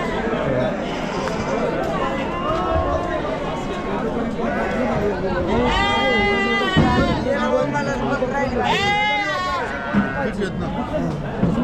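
Sheep and goats at a large livestock market in Chakan, Maharashtra, with a couple of wavering bleats rising out of a busy crowd, heard under close, steady talking and background chatter.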